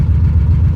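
A Chevrolet Corvair's engine catching and running steadily after a clutch-dump start in second gear, a loud, close, low rumbling idle with no talk over it.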